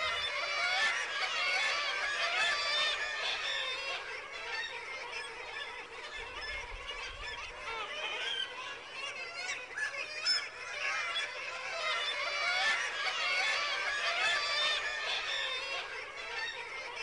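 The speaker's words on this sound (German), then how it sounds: "Jetzt ist Brutzeit. Die ersten jungen Möwen sind schon da." A large colony of gulls in Norway during breeding season, with young chicks already hatched, keeps up a dense, continuous chorus of overlapping squawks and cries at steady loudness throughout.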